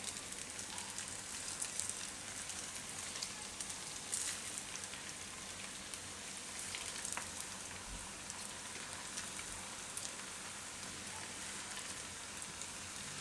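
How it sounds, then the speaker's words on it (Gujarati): Sabudana bhajiya fry in hot oil in a pan, giving a faint, steady sizzling crackle with scattered pops that runs on evenly without any talk. "આમાં હવે પાડી લેવું ભજીયા આપણે આ રીતે."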